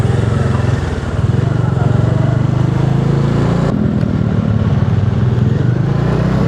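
A motorcycle rides through city traffic with a steady, loud engine drone close by, holding an even rumble throughout while wind and street noise surround it.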